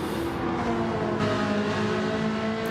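A Ferrari race car roars in a racing video game at the Lago Maggiore circuit, its engine note sustained and loud, with steady harmonic pitch lines and no break in the sound.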